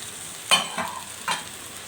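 Shrimp dropped into a hot pan of sauce sizzle and crackle in three short bursts that fade into a soft, steady hiss, close and fairly quiet.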